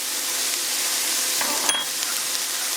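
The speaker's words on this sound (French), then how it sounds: "Et maintenant je vais cuire le tout pendant environ 5 à 6 minutes." Olive stuffing sizzles in a hot pan, a steady close frying hiss with a brief stir or scrape near the middle and no talking.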